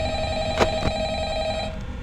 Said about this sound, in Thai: ไหนมันรับโทรศัพท์ อันนี้ผมไม่รู้ เห็นมันดังมาก